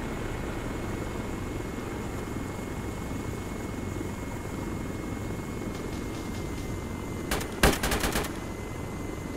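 Gunfire in the military shooter Arma 3: a steady helicopter-like drone fills the background, then a short, sharp burst of rapid shots cracks out close near the end.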